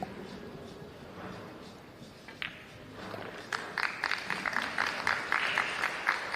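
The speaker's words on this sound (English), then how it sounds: "Well-deserved round of applause." Audience applause at a professional pool match, a semifinal of the Puerto Rico Open, begins faintly and swells into a moderate patter of handclaps from a nearby crowd.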